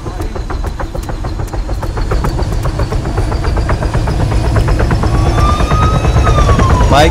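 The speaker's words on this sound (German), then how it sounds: "der Helikopter ist zu laut!" A loud helicopter in the video game Arma 3: a steady rapid rotor thumping with heavy low engine rumble, growing louder, while a siren-like whine rises near the end.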